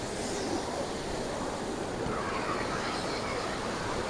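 A forest waterfall rushes in a steady, dense roar of falling water that fills the air without pause, loud and close, with no voices.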